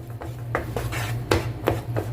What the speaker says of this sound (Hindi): हिलाते रहें और पकाते रहें।